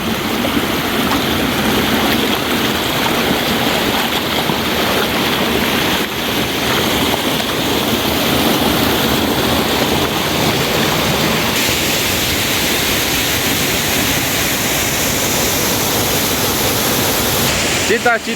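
Waterfall at El Chorro in Totolapa, Chiapas, pouring into a pool on a limestone river: a loud, steady, broadband roar of falling water that stays unbroken and close throughout, with no voices.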